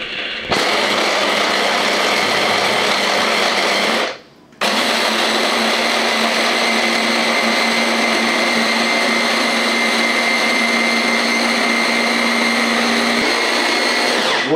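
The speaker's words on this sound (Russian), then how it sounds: "Вот мы засыпали наш сыр в блендер. Теперь попробуем его перемолоть." Kitchen blender grinding cheese runs loud and steady, cutting out briefly for about half a second before roaring on again for the rest of the time.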